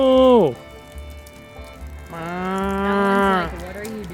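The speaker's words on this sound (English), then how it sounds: "Someone's mooing." Dairy cows moo on a farm, one long low call near the start and a second drawn-out bellow later, close and loud, with light rain-like patter in the background.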